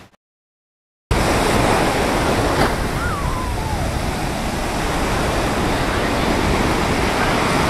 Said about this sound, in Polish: Oczywiście jesteśmy nad Oceanem Indyjskim.